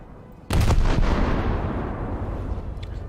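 German cruiser guns in a naval video game fire a single sharp, loud salvo that booms and then rolls away in a long, slowly fading rumble, with no voices.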